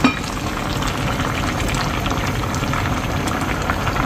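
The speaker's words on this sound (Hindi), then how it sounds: "जी, दाल बॉईल हो गई है" Dal lentils boil in a pot, giving a steady, close bubbling and hissing wash of liquid sound throughout with no talking.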